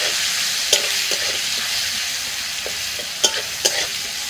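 Bitter gourd (karela) fries in hot oil in a wok, a constant close sizzle punctuated by a few sharp scrapes of stirring.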